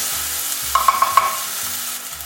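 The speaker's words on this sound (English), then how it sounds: "And we just stir that for about 30 seconds or so." Mushroom sauce stirred in a pan over low heat, a low steady sizzle with a quick run of four small clicks of the utensil against the pan, close by and alone with no talk.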